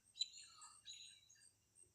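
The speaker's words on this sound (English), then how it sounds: "the birds chirping in the background" Birds chirp softly outdoors on an evening lawn, a few brief high calls scattered over two seconds with a faint low traffic hum underneath.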